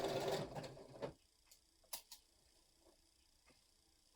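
A sewing machine stitching through polyester wadding runs in a short, busy burst of about a second, then stops, leaving near-silence with a few faint clicks.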